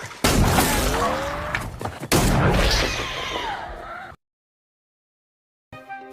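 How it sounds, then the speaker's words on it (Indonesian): Gunfire aimed at a creature in a TV series: a couple of loud, booming shots with long reverberant tails and rumbling, dramatic sound effects, followed by a sudden silence and a brief return of sound. "Dia pun kembali mencoba menembak makhluk itu. Namun tembakan Ethan hanya mampu mengusir makhluk itu."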